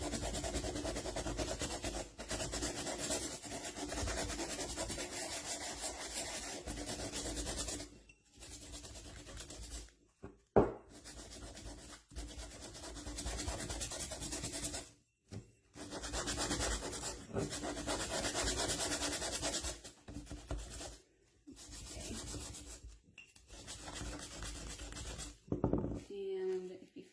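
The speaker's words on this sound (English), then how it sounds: "Like it's not sanding really good anymore the way you're holding it, you can turn it around and find a cleaner spot of your sandpaper" A glass mason jar is sanded by hand with sandpaper, making a steady close rasping scrape in long stretches broken by brief pauses.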